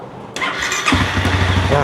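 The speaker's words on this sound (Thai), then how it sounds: "เดี๋ยวเรากดปุ่มสตาร์ทฟ ังเสียงไปพร้อมกันนะครั" The start button is pressed on a 2017 Honda CBR300 ABS with its original engine and stock exhaust, and a short starter whir catches into a close, steady engine idle after a brief quiet moment.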